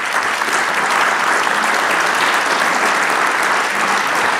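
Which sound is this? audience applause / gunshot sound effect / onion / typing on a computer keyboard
audience applause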